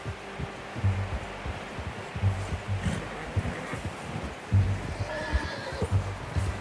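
Hooves clop steadily in uneven bursts, and a horse gives a short whinny near the end, over a low outdoor breeze, in the video game Red Dead Redemption 2.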